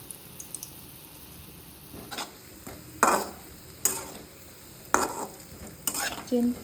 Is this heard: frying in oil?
yes